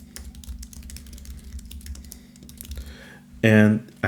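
Rapid clicking keystrokes on a computer keyboard as a gallery section name is typed, steady and close for about three seconds before a short, louder burst of sound near the end.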